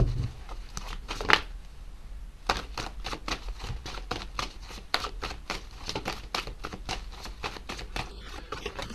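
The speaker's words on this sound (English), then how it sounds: "I did see this when I was shuffling" Tarot cards shuffled by hand: a quick riffle burst near the start, then a rapid run of crisp, papery card flicks and slaps, close and fairly quiet, with no talking.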